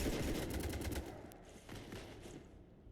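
Rapid automatic gunfire in Mass Effect 3 raking a ship, a dense burst of close shots that thins into scattered cracks and fades over a few seconds.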